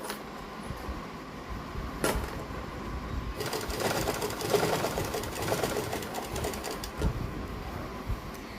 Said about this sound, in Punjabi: ਇਸ ਤਰੀਕੇ ਨਾਲ ਉੱਪਰ ਆਪਾਂ ਸਲਾਈ ਲਾ ਦਾਂਗੇ